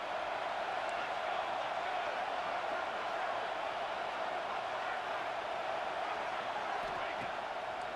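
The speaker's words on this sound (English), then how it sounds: "This crowd knows when to bring it." Dense roar of a large college football stadium crowd at Florida State during a Notre Dame game, a steady wash of cheering and noise held at constant loudness throughout, with no distinct voices standing out.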